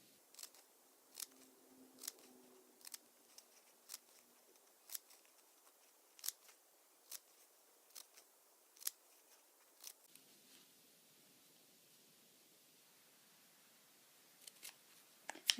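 Scissors snip yarn for pom pom flowers, sharp crisp cuts repeating roughly every second and close by, with a pause near the end before a final quick cluster of snips.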